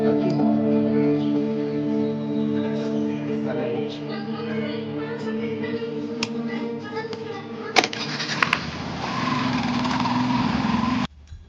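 A two-lakh-rupee motorbike engine runs steadily at idle nearby, a continuous buzzing drone that shifts and grows rougher toward the end before cutting off abruptly.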